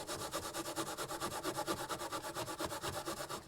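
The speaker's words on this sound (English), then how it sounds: "we're going to scrub it off anyway to get rid of the remaining butyl" Steady back-and-forth scrubbing of a Scotch-Brite pad across car quarter glass to strip leftover butyl sealant, an even rhythmic rubbing of about three strokes per second, close and continuous with no talk.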